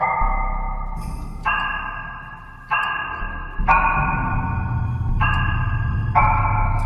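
A series of bright, high sonar-like ping tones, each sustained and stepping between pitches, with a low rumble underneath and no talking.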